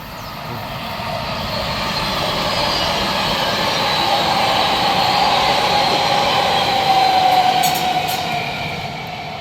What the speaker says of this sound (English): Here comes the train now. I think it's one of the tilt trains.